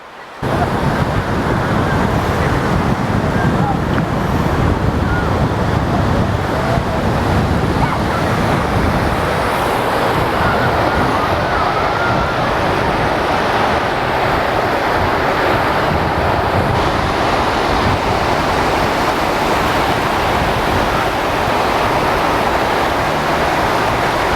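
Sea waves breaking on Whitley Bay Beach, a loud continuous roar of surf with heavy wind buffeting the microphone throughout, steady and close.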